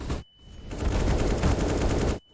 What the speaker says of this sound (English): Shots through smoke